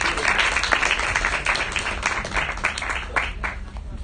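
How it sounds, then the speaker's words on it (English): A university club meeting audience gives a round of applause for the Society of Women in Space Exploration being introduced, a steady moderate clapping from a modest crowd lasting a few seconds, fading slightly toward the end. "Could you please give them a round of applause?"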